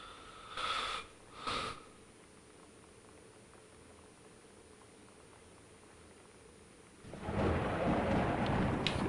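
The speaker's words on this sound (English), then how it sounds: "God, that thunder." Thunder in the video game Gone Home rolls in as a deep, loud rumble that swells and sustains for a couple of seconds under steady rain-like hiss, with a couple of brief sniff-like sounds earlier.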